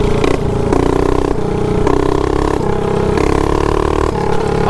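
A mini bike engine runs loud and close, revving with rough, stepped pitch changes and a clattering idle between revs.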